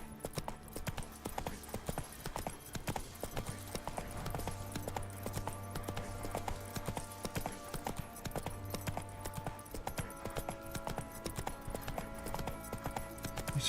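Horse hooves clip-clop in The Witcher 3: Wild Hunt, a steady, continuous trotting rhythm running throughout at moderate level.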